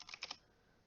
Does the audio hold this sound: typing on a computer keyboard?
yes